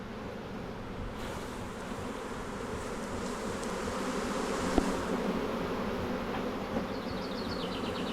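Honeybees drone around an open hive, a steady, close buzzing swarm that stays even in level throughout, with faint higher wingbeat whines passing near the end and no talking.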